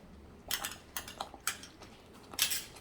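A spoon clinks and scrapes against a pan while fresh cream is stirred into palak paneer, four or five sharp metallic taps spaced across a quiet background, no speech.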